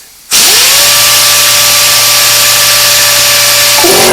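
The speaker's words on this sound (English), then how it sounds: "now we get to the really big air consumption tools like a DA sander like this" A pneumatic DA sander powered by a small air compressor starts up abruptly and then runs as a loud, steady hiss with a constant motor whine, held continuously to the end without pauses.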